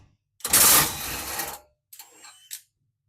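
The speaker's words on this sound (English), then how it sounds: "You need to remove these bolts to remove the rear bumper from the truck." A 13mm socket on a power driver spins rear bumper bolts out of a 2024 Chevrolet Silverado 1500 Z71, with one longer whirring run followed by two short bursts, close and alone.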